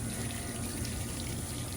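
Water sloshing in a swimming pool as half a pound of soda ash is spread around the perimeter, a steady, fairly faint wash of liquid noise with no speech.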